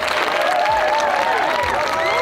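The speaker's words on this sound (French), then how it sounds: "s'il vous plaît, un très grand applaudissement pour le CCFD Terre Solidaire" At an international gathering on peasant seeds, a large audience claps loudly and steadily, with crowd voices and some cheering woven through the applause.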